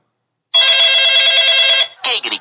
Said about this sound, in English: I'm getting a phone call that I